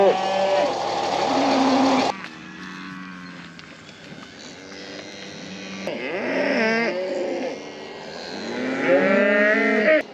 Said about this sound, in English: a lot of the commotion is these cows have had their calves weaned